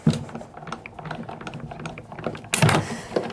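Die-cutting machine running a pass with deckled edge dies and papers for a scrapbook layout, quiet irregular mechanical clicks and ratcheting, with a louder crunching burst near the end.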